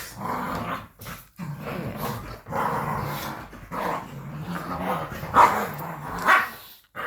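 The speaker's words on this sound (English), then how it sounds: "And now the dogs are co-fighting again" Dogs growl and bark while fighting indoors, snarling throughout with a few sharper, louder yelps and barks standing out, fairly close and continuous over the span.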